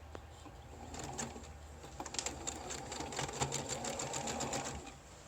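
Sewing machine stitching elastic onto a fabric face mask, a fast close needle rattle running steadily, with faint birds cooing in the background.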